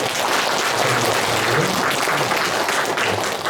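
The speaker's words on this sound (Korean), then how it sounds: "목사님에게 감사의 박수를 드리도록 하겠습니다" A church congregation applauds to thank the pastor at a revival meeting, a steady, dense wash of clapping that holds at full strength for the whole span.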